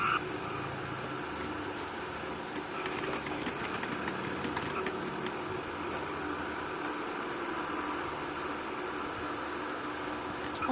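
A motorcycle engine idles steadily in a video game, a constant low mechanical drone with faint clicks throughout.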